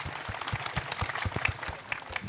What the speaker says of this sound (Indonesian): tepuk tangan buat RG, Rocky Gerung.